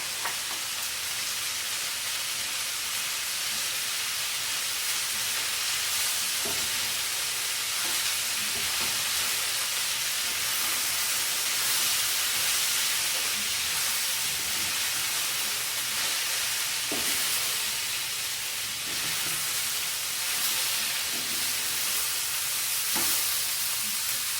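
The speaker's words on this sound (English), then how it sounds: "Add the chorizo now that the potatoes are cooking very well." Chorizo and cubed potatoes frying in a pan make a steady, loud sizzle that runs without pause, broken by occasional soft scrapes and knocks of stirring.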